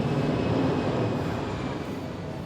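An LRT Line 1 light rail train at Baclaran rumbles past close by, a loud, steady low roar with faint rail whine, easing slightly toward the end.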